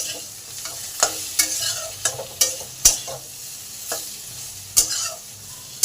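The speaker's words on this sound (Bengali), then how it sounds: "2 মিনিট আলু আর ডাঁটাটাকে একটু কষিয়ে নিলাম।" Potatoes and vegetable stalks sauté in a pan, a steady sizzle broken by sharp scrapes and clinks of a spatula stirring at irregular intervals, close and clear with no voices.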